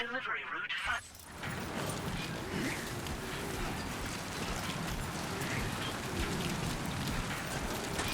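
Wind and rain in the video game Death Stranding 2: On The Beach, a steady, dense hiss of rainfall that goes on unbroken after a brief dip at the start.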